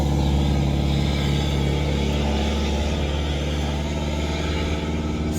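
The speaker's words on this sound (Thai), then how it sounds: "นั่นรถโม้ปูนครับ" A heavy cement mixer truck labors up a steep, winding mountain road at Phu Kao Ngom, its deep engine rumble steady and loud for the whole stretch with no talk.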